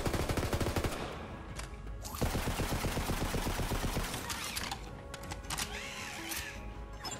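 Shotgun gunfire in the video game Borderlands 3, loud repeated bursts of shots in quick rhythm with short pauses between volleys.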